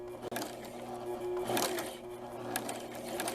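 A sewing machine runs steadily in reverse, stitching backwards through baby dirndl fabric with a close, continuous mechanical whir that stays even throughout and has no talk over it.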